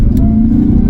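A supercharged 2005 Jaguar XJR revving while driving, a steady loud low engine drone with a faint rising whine, heard from inside the car.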